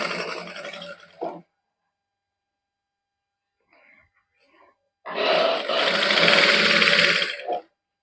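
A sewing machine stitches net lace onto a garment hem in two loud bursts of whirring, a short run then a longer one of about two and a half seconds, separated by near silence with faint handling sounds.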